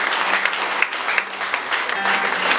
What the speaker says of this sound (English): Can we give Jesus a mighty hand clap